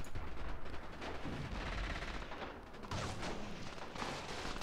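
Gunfire in the Graviteam: Mius Front war game with a sound mod, dense overlapping bursts of rifle and machine-gun fire with heavy booms, loud and continuous without pause.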